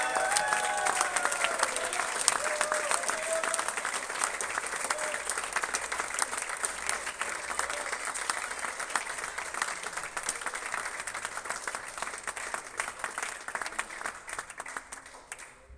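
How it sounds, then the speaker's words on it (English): A large crowd applauds steadily for the men's champion at the Hong Kong Football Club Open 2023 squash finals, with dense, sustained clapping throughout and faint voices mixed in. "a big round of applause for the Hong Kong Football Club Open 2023 Men's Champion"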